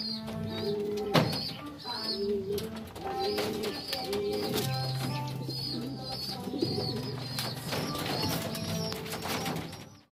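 Racing pigeons coo in a loft, with layered, continuous calls close by, a few wing flaps and scattered chirps mixing in throughout.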